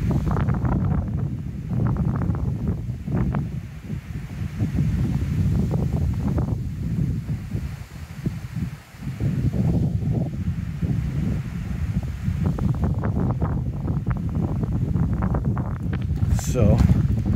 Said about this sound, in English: it's gonna be a little windy